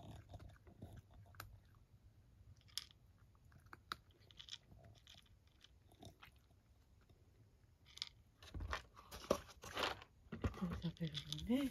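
A cat crunches and chews its breakfast at close range, with soft irregular bites early on that grow into louder, denser crunching near the end, while a person speaks quietly nearby.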